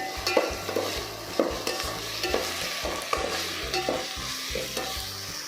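Chopped tomato sizzles in hot oil in a pan while a spoon stirs and scrapes repeatedly in a steady rhythm, close and clear, with music playing underneath.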